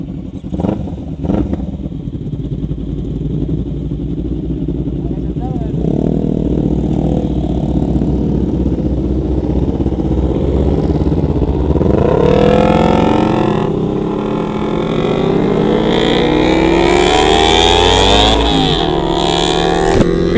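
A Kawasaki Ninja 250 first- or second-generation fuel-injected motorcycle engine runs steadily and loud up close, with several rising revs and gear-like sweeps in the latter half, no voices over it.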